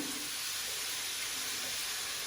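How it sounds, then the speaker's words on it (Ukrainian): Sliced oyster mushrooms fry in a pan, giving a soft, even sizzling hiss that holds steady and quiet throughout with no talking. "гриби порізані, і я їх відправляю смажитись. Ми відправляємо у пательню."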